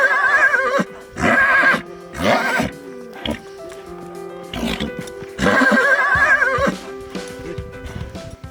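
Several horses at a Kyrgyz horse-breeding stud farm whinny loudly in repeated bursts, with hoof clip-clop and a steady background hum between the calls.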